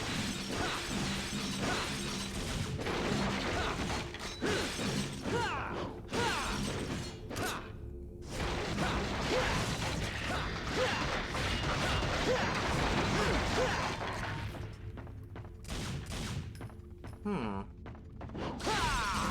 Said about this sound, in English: you have to be very thorough and actually destroy each of those bottles